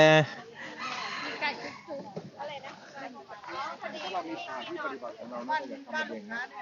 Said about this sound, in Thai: ห้องพักเขามีไก่หมดเลยเนี่ย มีไก่โจ้งไก่แจ้มีหมด